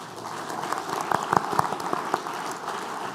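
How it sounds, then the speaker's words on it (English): Conference audience at the World Circular Economy Forum 2022 closing session applauds two young speakers, a moderate, steady clapping with a few sharper individual claps standing out near the middle. "let's give Ash and Chris a big round of applause, please"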